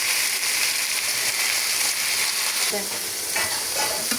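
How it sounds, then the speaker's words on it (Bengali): Bottle gourd greens stir-fried in a pan, a dense, steady sizzle close up, with a few scraping stirs near the end. "ভালোভাবে তরকারিটা ভেজে নেব।"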